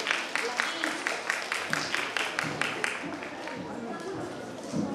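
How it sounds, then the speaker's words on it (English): An audience at a junior speaking competition claps after a one-minute speech, a fairly loud burst of dense applause that tapers off over several seconds. "we have a very big round of applause for us"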